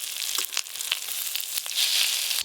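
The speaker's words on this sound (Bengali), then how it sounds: "পোড়াগুলো কিন্তু উল্টে পাল্টে ভাজতে হবে" Fish roe fritters fry in a pan of oil, a bright steady sizzle with scattered pops and crackles, swelling louder toward the end with no voices.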